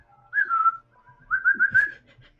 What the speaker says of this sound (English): All right, I'll start trying to whistle as well.